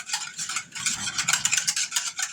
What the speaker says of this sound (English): we're just going to whisk it for a minute